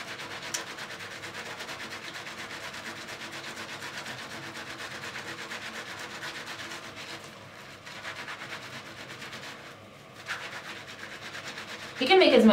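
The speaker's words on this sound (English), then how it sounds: "All you gotta do is rub it until it creates a foam." Hands rub a skincare product into a foam, a continuous soft close-up rubbing and swishing that fades briefly, then resumes with a sharper rustle at the end.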